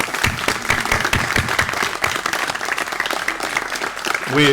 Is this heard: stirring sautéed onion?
no